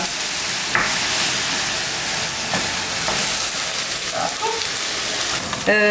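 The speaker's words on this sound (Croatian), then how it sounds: "Dok se meso sa povrćem prži" Meat and vegetables frying in a pan for chicken tortillas, a loud continuous hissing sizzle that holds steady throughout, with a few faint clinks.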